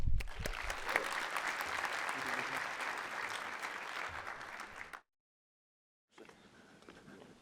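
An audience at a business talk applauds to welcome a speaker, with sustained dense clapping for about five seconds, a brief silence, then quieter applause resuming.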